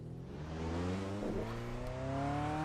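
A hot car Passat in the Reiza Brazilian Touring Car Classics game revs steadily, its engine drone holding with layered harmonics and a brief dip in pitch midway, no talk.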